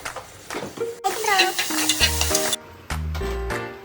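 Ginger-garlic paste stirred into hot oil in a home kitchen pan, a loud steady sizzle with scraping stirs throughout, a brief break midway before the frying resumes strongly.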